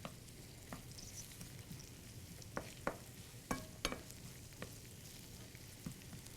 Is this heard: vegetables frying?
yes